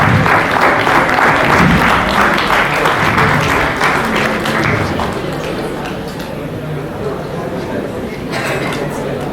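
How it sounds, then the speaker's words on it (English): Warm audience applause rises at a cinema felicitation event, many hands clapping steadily and loudly before slowly easing off, with a voice murmuring underneath. "A huge round of applause."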